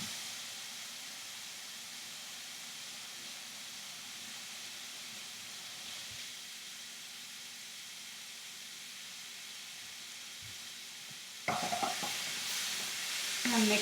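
Pork and cauliflower rice fry in a pan in batches, giving a steady soft sizzle and hiss throughout, with a louder burst of crackling stir noise near the end; no talking.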